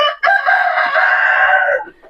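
A hen gives one sustained, loud call close by while laying eggs, the cry drawn out for well over a second and then trailing off, with no voices.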